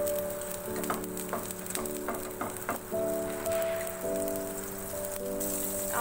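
Two tablespoons of butter melting in a pan on a low stove flame, a faint crackling sizzle with light clicks and taps, under a steady background tonal hum, no voices.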